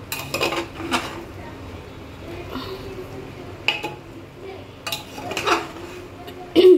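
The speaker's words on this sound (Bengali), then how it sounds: "নাড়িয়ে নেব" Food stirred in a pot, with scattered clinks and scrapes of a metal spoon against the pot between quieter stretches, ending in one louder knock.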